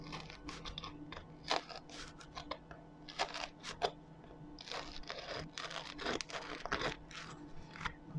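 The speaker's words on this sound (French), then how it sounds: "Mes galettes sont prêtes, bien croustillantes à l'extérieur" Crisp kesra semolina flatbread, crunchy outside and soft inside, is broken and bitten into, giving close, dry, irregular crackling crunches in quick bursts with short pauses between.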